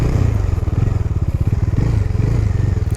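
A motorcycle engine idles steadily after restarting on a roadside breakdown caused by a drained battery, a close, loud, even low thrum with faint rattling, no voices.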